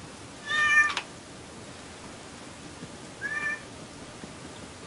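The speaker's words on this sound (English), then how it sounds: "Whose cat is that?" A house cat meows twice, a loud drawn-out cry followed a few seconds later by a shorter, fainter one, against a quiet background with no talking.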